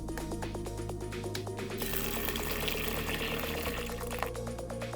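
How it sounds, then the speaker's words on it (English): Steady rush of hot water pouring into a bowl of beans, continuous and close, with a shift in pitch partway as the vessel fills. "So I'm going to pour it in the bowl and add hot water."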